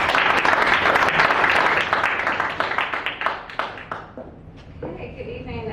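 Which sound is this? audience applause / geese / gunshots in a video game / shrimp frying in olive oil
audience applause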